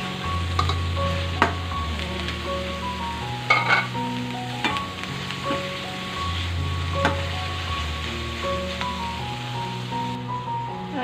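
Ground pork fries in a pan for spaghetti sauce, a steady sizzle broken by scraping stirs and sharp utensil clinks, with a looping musical melody playing underneath.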